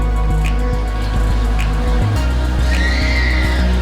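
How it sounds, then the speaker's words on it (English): Traffic on the Bronx River Parkway gives a loud, steady low rumble of passing vehicles, heard as continuous road noise behind other nearby mechanical sound. "the noise coming from behind us is just traffic on the Bronx River Parkway"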